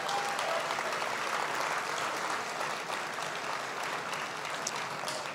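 Audience at a 25th anniversary gala for the No Books No Ball basketball program applauds, a dense, steady wash of clapping from a large crowd that continues evenly throughout.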